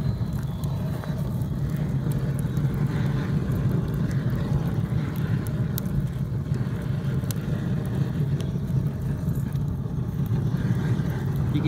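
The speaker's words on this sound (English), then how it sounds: "You can hear the gas coming out." Wood gas escaping from a hot lump charcoal retort barrel, a steady low roaring rush like a stove burner, continuous and even for the whole stretch with faint ticks above it.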